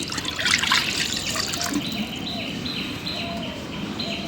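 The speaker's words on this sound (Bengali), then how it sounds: "এখন কড়াইতে একটু পানি দিয়ে দিই" Water poured into a kadai for cooking puti fish, a steady trickling stream running throughout with a faint bird call in the background.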